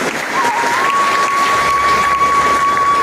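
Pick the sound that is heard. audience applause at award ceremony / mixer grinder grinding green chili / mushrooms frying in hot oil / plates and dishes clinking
audience applause at award ceremony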